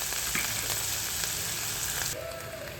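Onions fry in hot oil toward golden brown, a steady close sizzle with a few faint stirring touches that drops noticeably quieter near the end.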